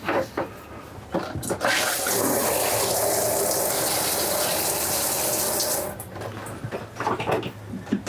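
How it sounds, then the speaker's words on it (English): Hot and cold water running in the shower of a 2021 Forest River Cherokee Grey Wolf 29TE bunkhouse travel trailer, a steady close hiss and splash lasting several seconds, with clicks and handling noises before and after. "Hot and cold running water."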